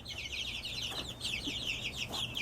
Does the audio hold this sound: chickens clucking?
yes